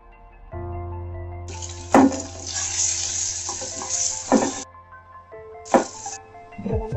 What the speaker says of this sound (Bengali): বেশি ভাজবো না ডিমগুলোকে, সামান্য একটুখানি ভাজা ভাজা করে আমি তুলে রাখবো।